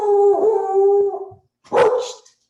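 A dog howls with a long, wavering drawn-out cry, then after a brief pause lets out one loud bark-yelp, close and clear with no talk.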